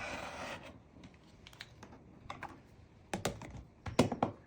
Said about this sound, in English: use a regular rotary cutter